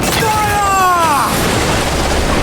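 A pirate ship's cannon fires in Assassin's Creed Black Flag: a deep, loud boom with a rolling rumble that fades over a couple of seconds, heard amid steady sea and wind noise and a shouted voice.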